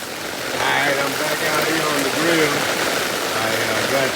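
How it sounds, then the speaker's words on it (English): Heavy rain pours outdoors beside a grill where beef shoulder is cooking, a loud, steady hiss of water that fills the whole stretch while someone talks over it. "Boy, it started raining real hard."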